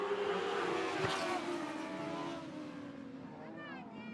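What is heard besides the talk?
dwarf cars racing on an oval track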